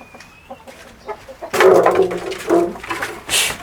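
Chickens from a poultry-raising setup cluck and call in a busy, overlapping stretch, close and fairly loud, with a quieter start before the flock grows more active.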